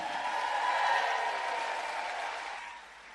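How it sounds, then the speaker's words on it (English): Applause from the audience at a MoveOn rally in Omaha, a dense steady clatter of clapping heard from within the room that gradually thins and fades toward the end. "Put your hands together for MOVEON"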